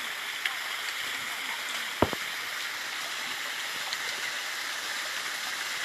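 A small stream running down a hillside trail into a little pool, with steady broadband water rush throughout and one brief knock or splash near the middle.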